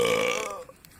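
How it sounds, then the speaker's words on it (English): A single loud, gravelly burp lasting about half a second during a live stream, fading into quiet room noise with a couple of faint clicks. "Okay, that was a burp."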